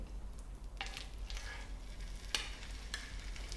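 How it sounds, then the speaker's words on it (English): Seer fish fillet sizzles steadily in a hot pan of melting butter, a continuous crackling fry with a few sharper spits and pops rising above the hiss, close and moderately loud with no talking. "I can hear it sizzle,"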